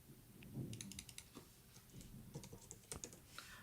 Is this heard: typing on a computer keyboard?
yes